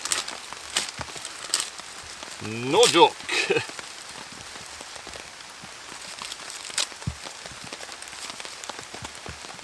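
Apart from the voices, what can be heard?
heavy rain falling at woodland campsite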